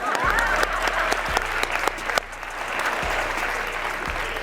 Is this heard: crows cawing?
no